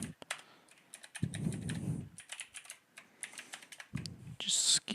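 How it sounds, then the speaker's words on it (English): Rapid clicking keystrokes on a loud computer keyboard, close and crisp, running in bursts throughout with short pauses, and a voice briefly speaking over it. "I just remember that I'm on the loud keyboard."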